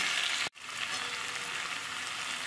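Pumpkin pieces cook in a pan just uncovered after simmering with the lid on, giving a steady close bubbling sizzle that drops out for a moment with a thump and then resumes evenly, no talk.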